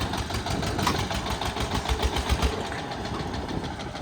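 A tractor engine runs steadily in a field, a close, continuous low chugging with a rapid rhythmic knock and vibration, holding even throughout with no voices.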